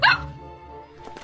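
A small dog gives a single short, high bark right at the start, close and loud, followed by a low quiet background and a faint murmur near the end.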